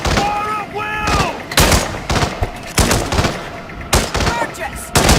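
Bursts of gunfire in a Hitman 3 mission, repeated loud broadband shots and volleys every second or so, mixed with game voices and tonal sound effects.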